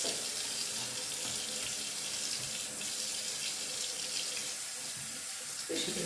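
Water runs steadily from a kitchen sink tap as dishes are rinsed, a continuous close splashing hiss with no talking.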